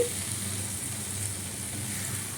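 Fried lentil dumplings (bori) added to a papaya curry in a pan produce a steady, even sizzle that runs close and constant throughout.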